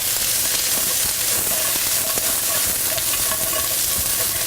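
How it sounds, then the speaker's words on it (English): Vegetables with garlic and onions sauteing in oil in a pan, a loud, close, continuous sizzle with scattered stirring scrapes and pops throughout. "The smell of sauteing garlic and onions is one of my favorite."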